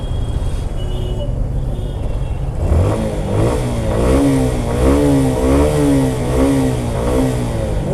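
A motorcycle engine idles, then revs up repeatedly from about three seconds in during a battery test, rising and falling in pitch several times, close and loud.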